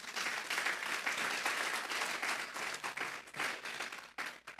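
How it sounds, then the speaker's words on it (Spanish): A church congregation applauds steadily, many hands clapping in a dense, sustained burst that dips briefly near the end. "Vamos a darle un fuerte aplauso pues al Señor."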